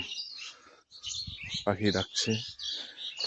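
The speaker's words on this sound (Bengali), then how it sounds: "পাখিরা ডাকছে এদিকে।" Birds chirp and tweet in the morning during an outdoor walk near a mosque, bright repeated calls at close to middle distance, with a voice speaking over them.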